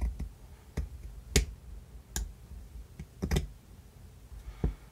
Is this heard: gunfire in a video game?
no